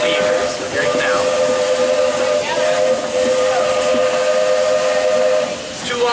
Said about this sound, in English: It is our crossing whistle.